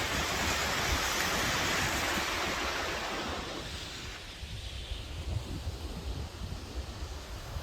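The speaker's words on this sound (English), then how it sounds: "You may not be able to hear me because of the wind" Wind gusts roar across an open hiking trail near a waterfall outside Payson, Arizona, loud broadband rushing and microphone buffeting at first, easing to a lower steady bluster with small gusts.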